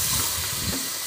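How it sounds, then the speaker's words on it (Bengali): Water poured into a hot pan of frying potato and cauliflower, producing a brief loud rushing hiss of steam and sizzle. "একটু ভাজা হয়ে গেছে, এবার আমি এতে জল দিয়ে দেবো।"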